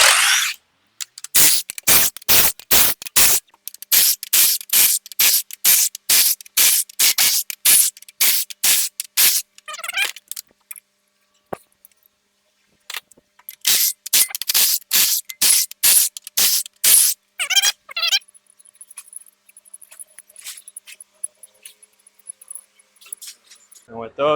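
Head bolts come out of a Cummins ISB 6.7 engine in long runs of loud, rapid rattling bursts, likely from an impact tool, each separated by brief pauses, followed by a faint high whine near the end.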